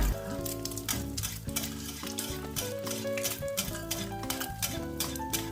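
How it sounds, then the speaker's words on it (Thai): Hot oil is spooned over egg whites frying in a pan, sending up bursts of crackling sizzle. The sizzling sits partly beneath loud background music that plays throughout. "ตักน้ำมันร้อนๆราดไปทั่วไข่ขาวเลย"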